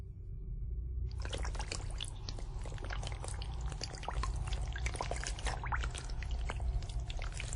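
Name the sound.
water drops rolling off leaf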